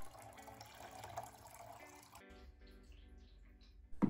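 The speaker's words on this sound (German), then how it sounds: "Der Tank lässt sich dank der großen Öffnung einfach per Tischwasserfilter oder direkt unter dem Wasserhahn füllen." Tap water runs steadily into the removable water tank of a Siemens EQ.300 fully automatic coffee machine, a continuous close splashing fill that changes tone partway through as the tank fills, ending with a brief clunk.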